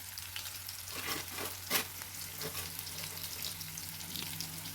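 Finely chopped onions and curry leaves fry in hot oil for chilli chicken, giving a steady, fairly close sizzle and crackle with faint stirring and one brief clink partway through. No talking.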